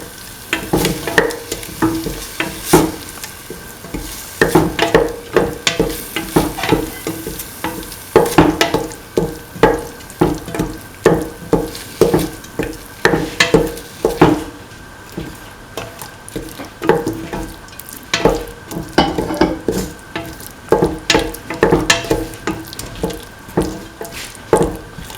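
Cottage cheese and coconut milk rice sautéed and stirred in a pan, a close, loud run of rhythmic scraping strokes over a steady frying sizzle, repeating for the whole stretch with no talk.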